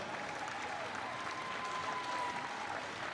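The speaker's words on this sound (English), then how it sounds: "Give her a round of applause." A crowd applauds the points race leader at the Launceston Cycling Carnival, a steady, fairly distant wash of clapping with a faint tone running through it and no speech over it.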